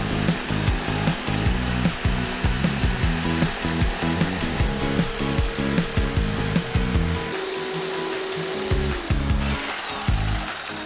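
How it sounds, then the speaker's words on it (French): A jigsaw cuts through wood with a steady, loud buzzing drone and rhythmic blade chatter, continuing close up for about eleven seconds with slight changes in pitch as the cut progresses. "vous actionnez la scie sauteuse et enfoncez la lame doucement dans le bois"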